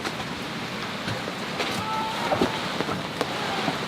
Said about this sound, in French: Ah, ça y est, il pleut.